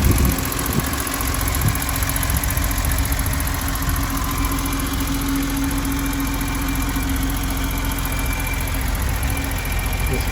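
A 1986 BMW 728i E23 with a fuel-injected six-cylinder engine idling, a steady low rumble with a faint mechanical ticking, heard close and continuous with no talking.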